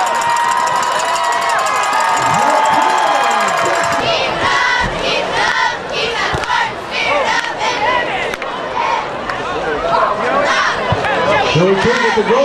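A crowd at a high school football game between Broad Run and the Spartans roars and shouts loudly and continuously, with overlapping voices, yells and chatter throughout.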